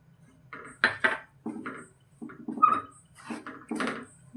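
Kesar peda mixture being beaten in a pan, giving a series of close scraping and knocking strokes in irregular bursts, with quiet pauses between them and no talking.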